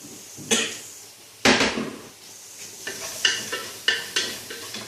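Tomato, curry leaves and raw plantain are stirred into a masala in a pan: a sizzling base broken by repeated scraping strokes of the spoon, with two loud early scrapes and then a quicker series of shorter ones.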